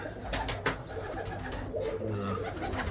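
Birmingham Roller pigeons coo steadily in a loft during breeding season, layered low rolling calls close by with a few sharper bird sounds and scuffles.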